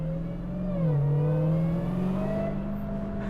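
A 2023 Dodge Challenger SRT Demon 170 accelerating gently from low revs, heard from inside as a steady, deep engine drone that dips briefly and then rises smoothly in pitch, without talk.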